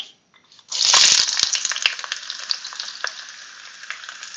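Chopped onions hit a hot pan with a sudden loud sizzling burst that then settles into a continuous crackling fry with small pops, close by and with no talking.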